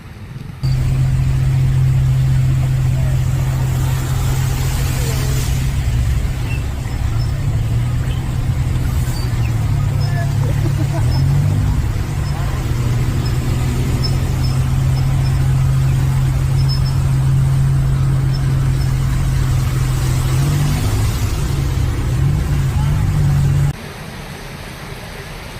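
Steady road traffic on a national highway in Davao City, with a continuous loud rumble of passing cars and trucks and engines droning close by for a long stretch.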